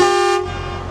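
A truck horn blares loudly in one sustained honk, then cuts off, leaving engine and traffic noise rumbling underneath.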